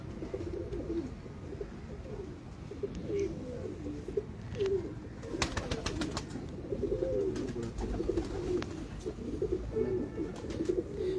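Pigeons coo in steady, overlapping low murmurs on a rooftop loft, close and continuous, with a few sharp clicks and rustles in the middle.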